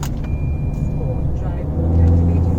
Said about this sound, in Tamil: ஸ்போர்ட்ஸ் மோட்ல இந்த வண்டி அப்படியே ஒரு ராக்கெட் மாதிரி தான் போகுதுங்க.